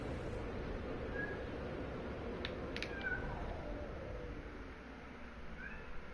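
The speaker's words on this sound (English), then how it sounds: "Whose cat is that?" A cat meows a few times, faint and distant, over a steady low hum of game ambience while exploring an irradiated planet in No Man's Sky.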